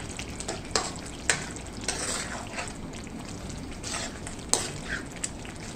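Coriander stirred into a frying potato-pea curry in a pan, with a soft continuous sizzle and several sharp spoon scrapes and clinks, heard up close.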